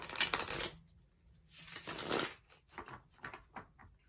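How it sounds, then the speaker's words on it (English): A deck of tarot cards shuffled up close in a quiet room, with a dense burst of riffling, a pause, then a longer shuffle and a run of soft separate card slaps and taps. "So, one last shuffle."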